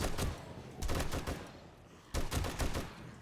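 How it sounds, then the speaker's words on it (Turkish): An M60 machine gun fires in the zombie survival game 7 Days to Die, in two loud sustained bursts separated by a brief lull. "Şu M60'ın şarjör kapasitesi beni benden alıyor ya"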